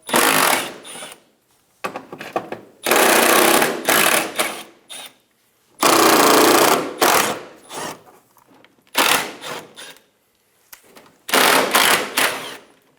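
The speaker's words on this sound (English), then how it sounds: "Remove the 5 10mm screws around the outside of the fender well." A power tool drives out 10mm screws around the fender well of a 2000-2006 Toyota Tundra, in several loud, close whirring bursts separated by short silences, with no talking.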